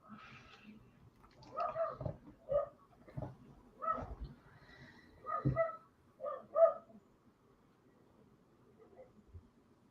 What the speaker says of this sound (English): there's a dog somewhere, clearly